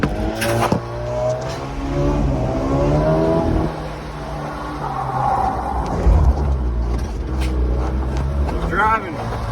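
An abandoned Mitsubishi-made Dodge Ram 50 truck, left sitting for over a decade and running a poor air-fuel mixture, revs loudly up close before a clutch dump, with people talking over the engine.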